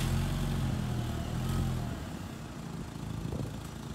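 A Mk4 Volkswagen Golf GTI's 1.8T engine runs steadily with a newly fitted downpipe, giving a close, continuous low rumble that eases slightly partway through, with no talk over it.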